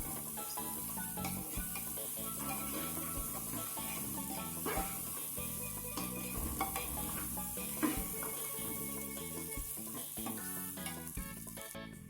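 Washed rice is stirred into a hot pot in a pressure cooker while making turmeric and cumin rice, giving a steady sizzling, scraping mix that runs loud and continuous throughout, with no talking.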